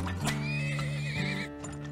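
Horse from a horse wagon in the oil-drilling video game Turmoil, a loud close whinny with rising and falling pitch over soft clip-clop hooves, lasting about a second and a half.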